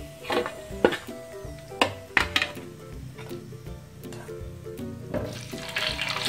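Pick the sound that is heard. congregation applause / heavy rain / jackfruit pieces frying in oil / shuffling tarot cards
jackfruit pieces frying in oil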